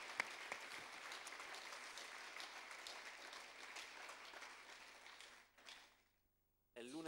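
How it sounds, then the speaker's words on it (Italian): Audience applause in an Italian theatre talk, a steady dense clapping that runs for about five and a half seconds before fading to near silence, with a brief sound returning at the end. "Un applauso."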